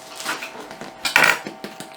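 A knife cuts through a freshly baked honey mead bread loaf with a crusty exterior, giving a short crunchy scrape that peaks briefly at the middle amid light clatter of dishes and cutlery nearby.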